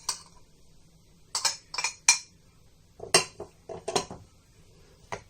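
Almonds and sesame seeds being stirred together in a bowl for sellou, giving a string of irregular close clinks and scrapes against the dish in short bursts with pauses between.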